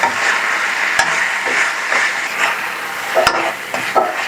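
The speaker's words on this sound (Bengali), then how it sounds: "ফ্রাই করতে থাকবো।" Chicken frying with red chili and turmeric in a pan, a continuous loud sizzle broken by several sharp scraping strokes of stirring, close up.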